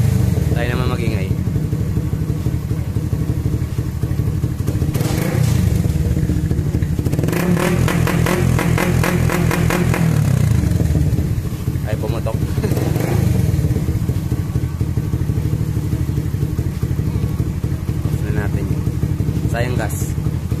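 A motorcycle engine tuned with a racing ECU revs repeatedly on a tuning stand, rising in bursts over a rough idle, loud and close, with people talking over it.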